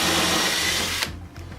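A power drill bores a fixing hole into a plasterboard wall for a hinged grab rail, whining loud and close for about a second before stopping abruptly, leaving faint knocks and handling noise.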